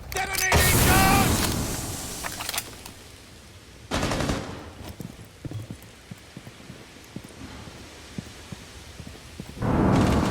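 Explosive detonations and gunfire in a video game, heavy bursts at the start, middle and end with scattered rapid shots between, loud and close.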